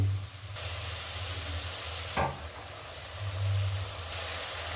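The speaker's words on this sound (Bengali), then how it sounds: "একদম ভালো ফুটে গেছে" Fish curry bubbling in a pan, with a soft steady sizzle and hiss, a brief stir or clink near the middle, and a low hum running underneath.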